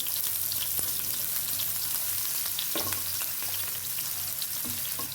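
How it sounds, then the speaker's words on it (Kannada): Chopped onion hits hot oil and cumin seeds in a tempering for brinjal curry, giving a steady, close sizzle of frying with a few faint stirring clicks, and no voices. "ಈರುಳ್ಳಿ ಹಾಕ್ತಾ ಇದ್ದೀನಿ ಹೆಚ್ಚಿಟ್ಕೊಂಡಿರೋ ಈರುಳ್ಳಿ"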